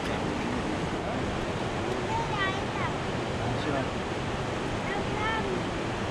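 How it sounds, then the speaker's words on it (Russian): Constant broadband rush of flowing river water in Yosemite National Park filling the whole clip, with a few faint bird chirps above the steady roar. "Не, ну это не ручей, это уже река."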